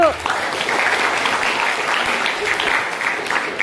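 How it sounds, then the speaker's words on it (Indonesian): A group of people applauding together, a short burst of fairly loud, dense clapping that stays steady and slightly uneven throughout. "Tepuk tangan dulu Mbak Ayu."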